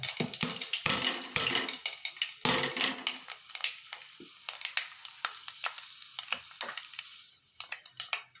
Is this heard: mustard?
yes